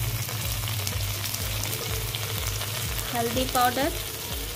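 Onions sizzle and fry in oil with ginger-garlic paste, coriander powder and turmeric, stirred steadily in a pan for a restaurant-style dum aloo masala; a brief spoken word sits over the continuous sizzle.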